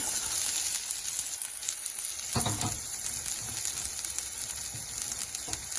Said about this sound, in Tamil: இப்போ எண்ணெய் சூடாயிடுச்சு, முட்டைக்கோஸை சேர்த்துக்கலாம்.